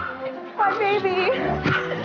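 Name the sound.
pet dogs greeting owner returning home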